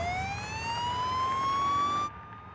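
A wailing ambulance siren rises slowly in pitch over steady traffic rumble, fairly close, then cuts off abruptly, leaving only faint background noise.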